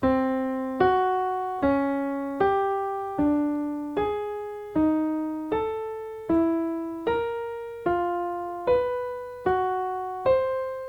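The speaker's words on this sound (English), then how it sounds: "So I'm just going up the chromatic scale and playing a tritone based off of each note." Tritone intervals ring out one after another, about a dozen struck evenly, each decaying before the next, stepping upward by half steps.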